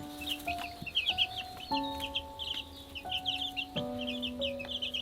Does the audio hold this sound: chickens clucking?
yes